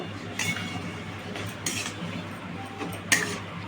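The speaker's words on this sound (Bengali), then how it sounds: "এবার এটাকে ভালো করে আমি মাখিয়ে নেব।" Prawn chop ingredients being mixed with red chili powder in a bowl for a jackfruit-prawn chop give a few light clinks of a utensil on the bowl over a steady low background hum.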